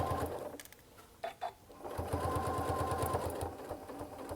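A sewing machine runs steadily, sewing a half-inch seam, with a fast regular stitching rhythm after a brief pause and a couple of handling clicks, close and moderately loud.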